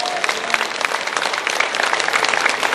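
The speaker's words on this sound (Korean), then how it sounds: "함께 한번 영광의 박수 한번 돌려드립니다." A church congregation applauds during a Korean-language sermon, giving sustained, dense clapping that stays even and fairly loud from start to finish.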